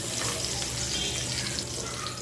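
Ginger and garlic fry in oil as the base of a paneer mutter masala, making a dense, continuous hiss that stays close and unbroken for the short stretch.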